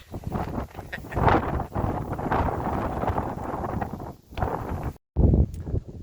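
Strong wind buffets the microphone on a rocky hiking trail near Sant Elm in Mallorca, roaring steadily for several seconds in loud gusts, with a brief drop near the end before another gust.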